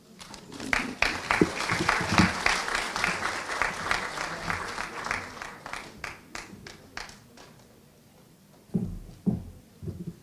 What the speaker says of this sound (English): Another round of applause for our Vice President, Carlos Molina